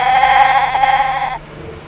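A single loud, close bleat wavers for over a second, then stops abruptly, leaving quiet.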